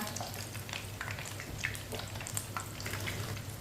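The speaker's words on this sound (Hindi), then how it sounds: "अब ये वाली साइड से भी चिकन फ्राई हो चुका है।" Chicken pieces frying over a medium flame in a pan give a steady, dense crackling sizzle, with scattered brighter pops and oil spatters running evenly through the whole stretch.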